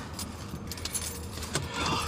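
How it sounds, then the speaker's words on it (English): A bunch of keys jangles in a short, busy metallic rattle, close by, against wind and traffic noise from an outdoor spot at London Heathrow Airport during Storm Isha. "Keys."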